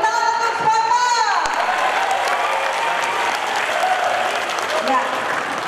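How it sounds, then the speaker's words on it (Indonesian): A crowd breaks into loud, sustained applause that carries steadily to the end, with a brief voice over the start. "Tepuk tangan untuk supporter."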